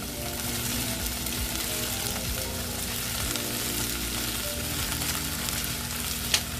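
Tomatoes and peppers sizzle loudly in a hot pan with Thai basil, a dense continuous frying hiss with a faint stir or clink near the end and no talking.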